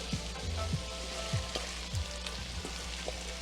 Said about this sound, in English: when you're sauteing the garlic, about 30 seconds after you smell the garlic cooking, it's time to add more ingredients